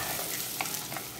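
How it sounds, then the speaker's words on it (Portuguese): Calabresa sausage frying in a pan for a home-cooked meal, a steady close sizzle with a couple of brief clicks of stirring. "Aqui, ó, já tá bem fritadinho a calabresa"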